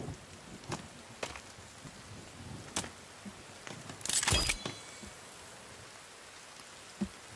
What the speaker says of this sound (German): Ah, geil. Regen.